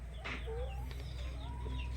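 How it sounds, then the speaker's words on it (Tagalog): Chickens cluck close by in short, choppy bursts, several birds calling over a low steady hum, with no talking. "Yung mga manok."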